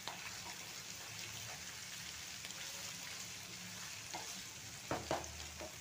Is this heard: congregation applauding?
no